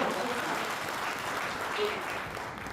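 Audience clapping at a political speech, a dense, steady burst of applause from a crowd that carries through the short stretch and eases slightly at the end.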